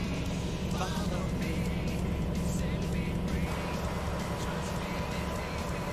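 A heavy truck engine in American Truck Simulator drones steadily, low and continuous, with a rising rev partway through and a faint voice murmuring underneath.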